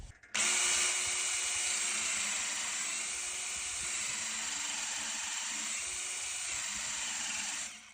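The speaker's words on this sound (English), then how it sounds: "We're just trying to sharpen it just enough until there's a burr that appears right here" A grinder sharpens a tooth on a saw blade, giving a loud, steady high-pitched whine with hiss that holds almost unbroken from start to near the end.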